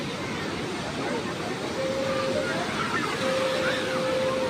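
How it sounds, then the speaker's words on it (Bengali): Rough, churning sea waves of the Bay of Bengal at Puri beach, a steady loud roar of surf with a crowd murmuring faintly behind it and a brief thin tone drifting through. "সমুদ্রের একদম উত্তাল ঢেউ"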